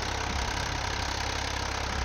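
A Ford 3630 tractor stuck in a farm field runs with a steady, close mid-to-low engine drone and a rapid, even pulsing throb that holds constant throughout, with no speech.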